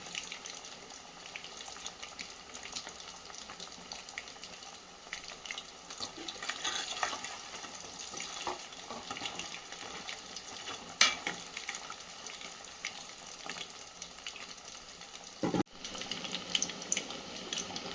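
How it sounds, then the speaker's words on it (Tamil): Chicken 65 frying in a pan and being stirred, a soft continuous sizzle with scraping stir strokes and a few sharper clinks, fairly quiet with no talking. "இப்போ பாருங்கள், நல்லா சிக்கன் நல்லா ஃப்ரை ஆகிடுச்சு"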